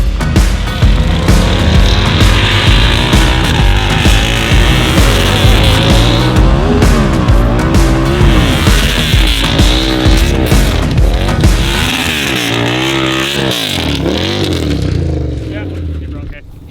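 A mini truck with a swapped Harley-Davidson engine revs hard and loud for a long stretch, engine note rising and falling with tire noise, before the drive shaft breaks and the roar cuts away near the end; voices are heard.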